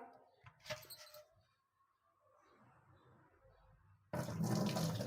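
Dirty water poured out of an old clay water pot after cleaning, a faint gurgle at first, then a loud, steady splashing gush at the end, with no voices.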